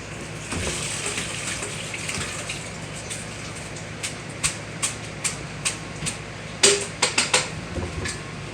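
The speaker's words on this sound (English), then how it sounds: "drain these potatoes off." Boiled potatoes are drained into a kitchen sink, a steady gush of pouring water followed by a series of hollow thumps and knocks as the pot and potatoes settle, close and fairly loud with no talk.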